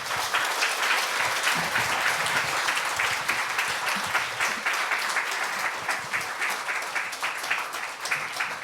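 Church congregation clapping to welcome a visiting missionary, a sustained, even wash of applause from a crowded hall that continues throughout without talk.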